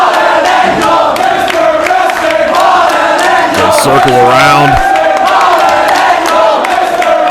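Wrestling crowd at a Steen versus Daniels match, a loud continuous roar of cheering and shouting filling the arena, with a commentator talking over it.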